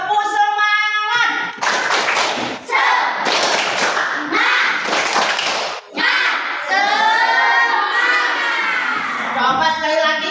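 Indonesian classroom group doing tepuk semangat, rhythmic spirit clapping with shouted chanting, loud bursts of hand claps in a patterned beat mixed with children's voices and a leader speaking between rounds.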